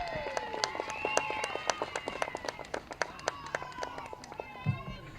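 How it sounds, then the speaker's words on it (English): Fans at a Little League baseball tournament game in Lynn, seated on an outfield lawn, give scattered, steady clapping at a moderate distance, heard beneath continuous talking. "You can tell by the applause."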